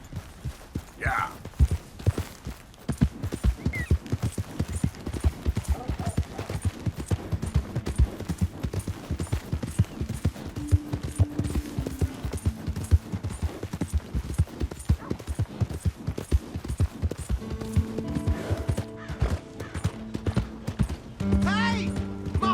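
Continuous rhythmic clip-clop of horse hooves at a steady trot in Red Dead Redemption 2, with a brief whinny and some tonal game sounds near the end.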